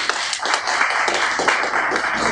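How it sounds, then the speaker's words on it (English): A church congregation claps in praise, a dense, fast and loud run of many hands with no talk over it. "Can we give the Lord a clap of praise?"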